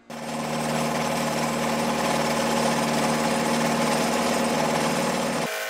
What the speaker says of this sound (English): The block was firstly squared off and then milled down to size